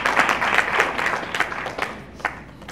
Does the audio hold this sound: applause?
yes